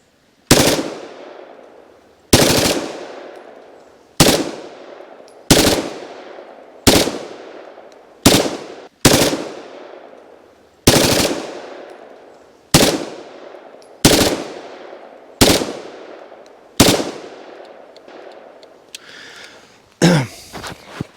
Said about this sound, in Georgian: ეხლა ამას მე გადავთავ ავტომატურზე. და ვესვრი დიდ სამიზნეს.